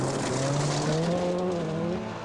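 1988 RSAC Scottish Rally stage car, engine howling loud and close with rising and falling revs for a couple of seconds, a steady strained roar with a little tyre scrabble, fading slightly at the end.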